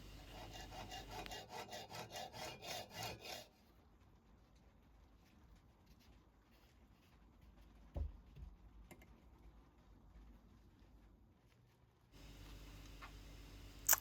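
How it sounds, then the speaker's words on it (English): A brass rod is cut down to size with a hand saw, giving a run of quick rhythmic rasping strokes, then quiet with scattered faint taps, and sawing resumes near the end. "Now the brass rod needs cutting down to size."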